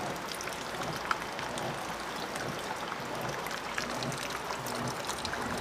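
Water rushes and splashes steadily into the tub of a Panasonic 8 kg washing machine filling during its cycle, a constant hissing pour with no voices.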